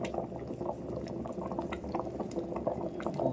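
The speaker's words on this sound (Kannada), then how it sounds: "ಕುದೀತಾ ಇದೆ, ಇನ್ನೂ ರೈಸ್ ಹಾಕಬೇಕು." Water coming to a boil in a cooking pot, ready for rice to be added, gives a steady, dense bubbling and rattling texture that runs unbroken at moderate level with no talk.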